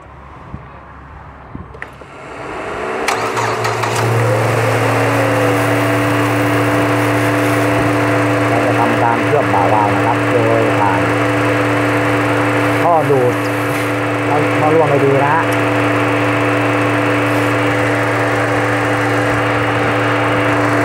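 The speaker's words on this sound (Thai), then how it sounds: "การรบกวนติดเครื่องให้หน่อยครับ" A Ford Escape petrol engine converted to run on LPG cranks and catches, then settles into a steady, loud idle with a few brief revs, as people speak faintly in the background.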